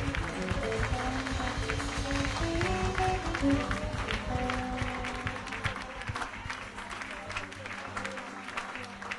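A church congregation at prayer applauds and acclaims loudly, with steady sustained clapping, crowd voices and sung tones underneath, the clapping thinning slightly toward the end.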